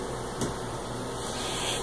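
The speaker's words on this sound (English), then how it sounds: "One of my kids is vacuuming" Vacuum cleaner running in another room of a home, a steady muffled hum and hiss with a brief louder swell, continuous and moderately distant, with no talking.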